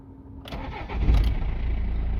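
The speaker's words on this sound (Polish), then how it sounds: "A silnik to pali od razu." A BMW E46 car engine cranks briefly, catches, and settles into a steady close idle.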